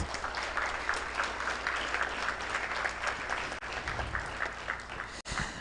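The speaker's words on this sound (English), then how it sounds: "let's give a round of applause to all our guests" Audience at a panel discussion on the creative economy applauding the guests, dense sustained clapping throughout at moderate level, with a brief dip near the end.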